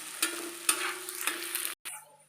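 Garlic cloves and onion fry in a pan before eggs go in, a close, bright sizzle punctuated by a few sharp pops and spoon knocks, briefly dropping out before resuming more quietly.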